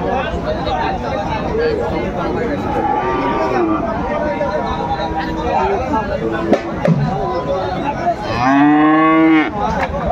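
A young Sahiwal bull calf lows loudly at a busy cattle market, one long moo near the end rising over constant crowd chatter and nearby talking.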